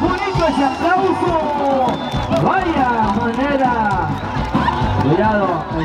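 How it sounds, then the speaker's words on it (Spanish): Crowd noise and clapping at a jaripeo rodeo for an anniversary celebration in La Concha, El Naranjo, San Luis Potosí, loud and continuous, mixed with a busy murmur of voices and shouts. "bonito ese aplauso"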